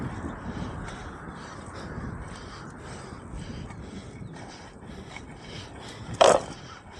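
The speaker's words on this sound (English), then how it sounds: "A lot of birds I can hear in the background." Crows caw beside an inline skating trail in Auburndale, Florida, over a steady outdoor rush of background noise, with one loud, sharp call standing out near the end.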